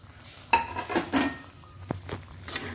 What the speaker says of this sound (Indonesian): kita masukin kentangnya ya.